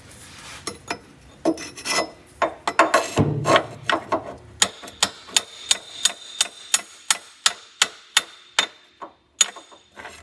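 Sharp metallic hammer taps strike a part under a Land Rover, first irregular and mixed with rustling, then a steady series of about fifteen evenly spaced ringing knocks, close and clear.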